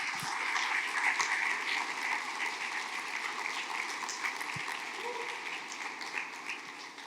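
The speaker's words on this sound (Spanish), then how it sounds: "¿Por qué no le das un aplauso a Dios por eso?" A church congregation applauding during a Sunday service, heard as a sustained, moderately distant wash of clapping with a few louder knocks, no clear speech over it.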